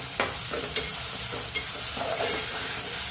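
Tomato and onion with a pinch of salt cooking in a pan for a Agri-Koli liver dish, a steady broadband sizzle running throughout with a few soft stirring scrapes, close and fairly quiet, no talking.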